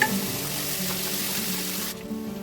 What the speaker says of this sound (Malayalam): വെളുത്തുള്ളി കുറച്ച് അധികം ഇട്ട് കൊടുക്കുന്നത് കേട്ടോ ഒന്ന് നല്ലതുപോലെ വഴറ്റിയെടുക്കാം